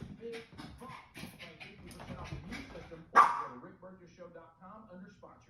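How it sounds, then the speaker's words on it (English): A dog barks sharply at a video playing on a screen, with one loud bark standing out amid ongoing talk and quieter yips and whimpers. "this person had that up on their screen, and their dog didn't like it"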